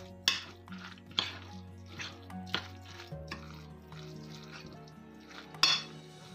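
Spoon scraping and knocking against a bowl while grated potato is stirred together with fried minced meat for a Belarusian potato babka, with several sharp clinks over a soft mixing sound and no talk.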